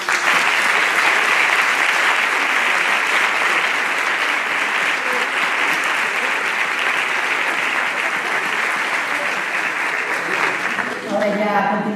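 A large audience at a university talk marking 100 years of radio claps steadily and loudly for about twelve seconds, the dense applause holding at an even level before a voice starts speaking at the very end.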